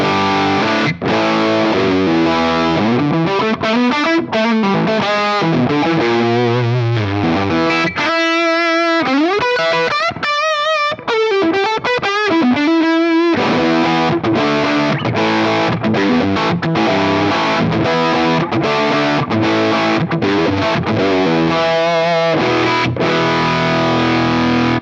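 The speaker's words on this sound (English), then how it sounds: "That is a big noise. Yeah, almost kind of fuzzy, but tons and tons of gain in there." Loud, fuzzy electric guitar through a Lovepedal Mosferatu pedal on the bridge pickup, heavy distortion and lots of gain, chords and riffs played continuously with a brief thinner passage midway.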